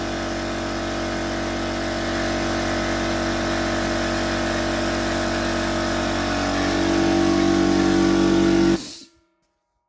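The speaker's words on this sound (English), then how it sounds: "So that's the compressor." An air compressor supplying a Soda 7 soda blasting pot runs loud and steady at close range, its hum swelling slightly near the end before it cuts off abruptly into silence.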